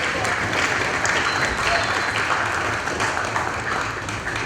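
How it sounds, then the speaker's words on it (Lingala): Members of a provincial assembly applaud loudly and continuously, a dense, even wash of clapping filling the whole stretch. "À Longuinaye, nous acclamons très fort pour lui."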